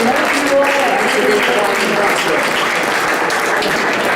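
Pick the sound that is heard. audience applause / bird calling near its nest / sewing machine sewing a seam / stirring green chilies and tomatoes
audience applause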